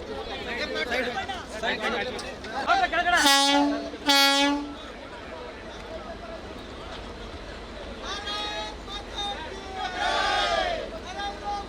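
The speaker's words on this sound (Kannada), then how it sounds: "ತಿರುಪತಿಗೆ ನೂತನವಾಗಿ ರೈಲ್ವೆ ಸಂಚಾರವನ್ನು ಆರಂಭಿಸಿದ್ದು ರೈಲ್ವೆ ಖಾತೆ ರಾಜ್ಯ ಸಚಿವರಾದ ವಿ ಸೋಮಣ್ಣ" The Chikkamagaluru-Tirupati Express departs, blowing two loud, close horn blasts over the rumble of rolling carriages, with a crowd chattering and shouting around it.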